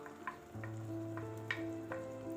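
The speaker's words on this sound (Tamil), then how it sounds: "இப்போ அதே பேனில் கொஞ்சம் நெய் விட்டுட்டு நான் அரைச்சி வச்ச அந்த பேஸ்ட்டை ஆட் பண்ணிக்கிறேன்." Ground capsicum paste sizzles in ghee in a hot pan, a soft steady frying crackle with occasional stirring scrapes, close and quiet.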